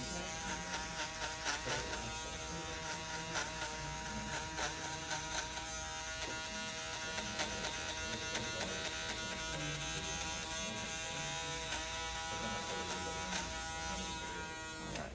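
An electric shaver buzzes continuously and close by during a skin fade haircut at a barber's chair, a steady electric whine with slight pulsing as it moves over the skin and no talk.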